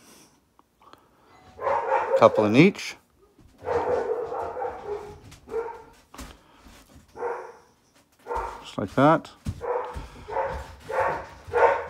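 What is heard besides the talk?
dog barking at someone at the front door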